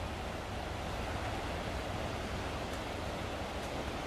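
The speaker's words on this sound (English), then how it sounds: "Listen to the water." Steady broadband rush of water flowing under the Emerts Cove Covered Bridge in Tennessee, constant and fairly soft, with no voices.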